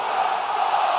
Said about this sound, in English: Listen to this crowd, guys. They're fired up for this one.